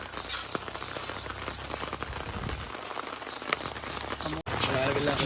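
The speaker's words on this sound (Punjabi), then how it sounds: "ਮੀਂਹ ਪੈਣੇ ਲੱਗ ਗਿਆ" Steady rain patters on surfaces outdoors, a dense hiss with scattered drops, while people talk nearby.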